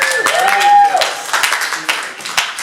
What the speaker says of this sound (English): Alright, so round of applause for that argument.